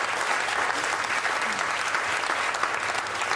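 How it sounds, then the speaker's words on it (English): A large studio audience at a Doctor Who live after-show applauds Matt Smith, with loud, sustained, dense clapping throughout. "Give a round of applause for Matt Smith, everybody"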